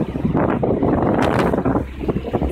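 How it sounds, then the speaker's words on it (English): A sailboat motor-sails on Chesapeake Bay, with loud, rough wind buffeting the microphone over the rushing of water and a faint engine hum beneath. "We are motor sailing at the moment."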